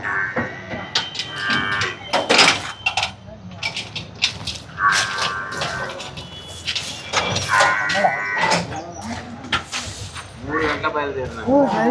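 Calves and cattle at a busy buffalo market, with repeated loud moos and lowing calls close by, some overlapping, amid people talking and scattered knocks and bangs.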